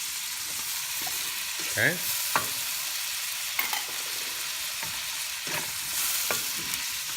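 Tomatoes sizzle in a hot pan while being stirred for Kapampangan-style pinakbet, a steady frying hiss with several soft scraping strokes of the utensil; a voice speaks one brief word.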